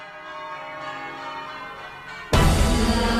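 Cathedral bells ring in a twelve-bell change-ringing contest final at Guildford Cathedral in 2022, sounding as steady, overlapping tones for about two seconds before a sudden loud wash of broadband noise swamps them.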